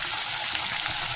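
Two large onions fry in a pan for a raw prawn and gongura curry, giving a loud, even, close sizzle with no breaks.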